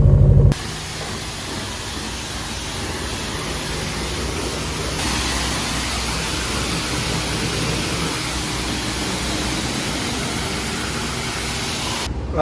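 Steady broadband water spray rinsing a dirty car before a carbon trunk install, continuous hissing rush at close range with no talking.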